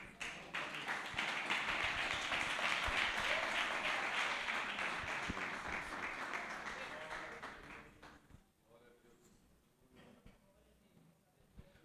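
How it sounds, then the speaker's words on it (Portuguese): A church congregation claps steadily through a worship service, the broad applause swelling then fading out near the end, with faint voices beneath and a quieter room after. "As palmas"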